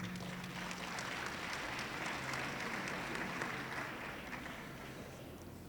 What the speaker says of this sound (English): if you can give the Premier and the team a big applause for that.